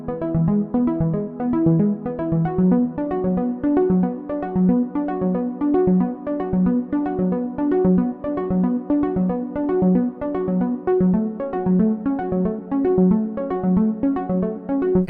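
Electronic track of a polyrhythmic synth arpeggiator over sustained chords, a busy, even stream of fast repeating notes that holds a steady level throughout with no voices.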